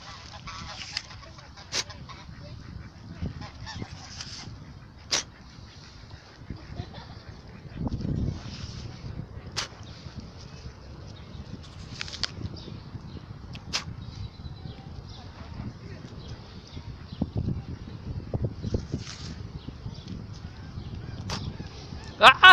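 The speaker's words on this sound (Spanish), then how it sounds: "¡Me atacan dos patos!" Two ducks give repeated, scattered honks at close range, short loud bursts standing out over a faint outdoor background, with a person's voice reacting nearby.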